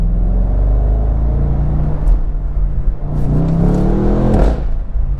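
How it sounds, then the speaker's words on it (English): A BMW M850i convertible's V8 engine rumbles loud and close, with a rising rev swell and crackling exhaust burbles toward the end over a steady low drone. "That V8 just sounds so angry."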